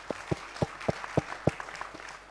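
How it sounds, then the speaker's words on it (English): Applause at a conference plenary session: sparse, separate claps spaced evenly, faint and distant. "May I have a huge round of applause for all the presenters,"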